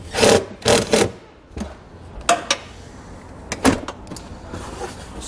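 A self-tapping screw is driven into bare metal beside a converter box on a 2020 Toyota RAV4 to fix a ground wire: three loud, grinding bursts at the start, then sparser, fainter scraping and ratcheting bursts.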